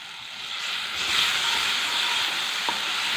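A paste of cashews, tomatoes and garlic hits a hot pan, giving a steady close sizzling hiss that swells slightly as it spreads, with a small clink near the end and no speech.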